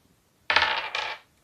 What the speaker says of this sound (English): So we could roll the dice, right?